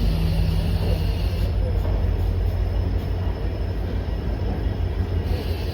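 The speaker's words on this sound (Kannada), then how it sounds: "ನಮ್ಮ ಟ್ರೈನ್ಗೆ ಬ್ರೇಕ್ ಟೆಸ್ಟಿಂಗ್ ಮಾಡ್ತಾ ಇದ್ದಾರೆ ಅದಕ್ಕೆ ಈಗ ಸ್ಟಾರ್ಟ್ ಆಗಿ ಮತ್ತೆ ಸ್ಟಾಪ್ ಆಗಿದೆ" The Yesvantpur–Mangaluru 16575 diesel train stands during brake testing at departure, giving a loud, constant engine rumble and hiss of air that runs unbroken throughout.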